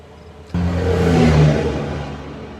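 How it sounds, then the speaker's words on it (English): Big trucks roar past on a hot roadside in the middle of nowhere, a sudden loud onset of engine rumble and wind rush that swells and then slowly fades as the vehicle moves away. "Big old trucks passing"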